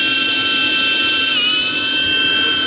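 Steady high-pitched whine of a small FPV drone's motors, continuous and close, holding an even pitch with a slight shift partway through.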